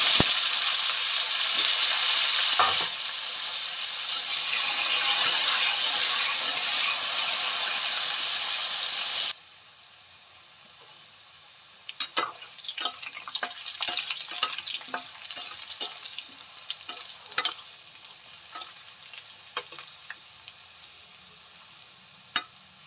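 Potatoes hit hot oil in a pan with a loud, dense sizzle for several seconds, then the hiss drops away to quieter crackling and repeated utensil scrapes and taps as they are stirred.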